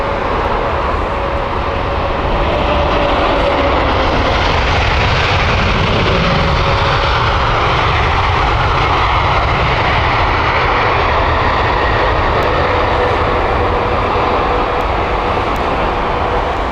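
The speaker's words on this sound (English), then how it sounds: "United LAX 787-9 is inbound next" A United Boeing 787-9 on approach into Heathrow Airport, its engines producing a loud, steady roar that fills the whole stretch without any break.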